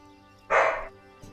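One loud bark from a dog outside bursts out after a near-silent pause, followed by faint low rustling.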